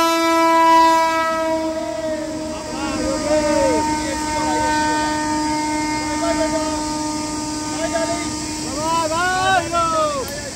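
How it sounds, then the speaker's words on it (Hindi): Train passing close by with a long, loud horn blast, layered tones sounding over steady wheel rumble, then a few shorter horn bursts near the end while people talk nearby. "ट्रेन की आवाज आ रही है, देखिए।"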